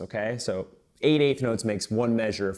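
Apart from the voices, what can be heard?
No distinct noise like a dog, phone or traffic.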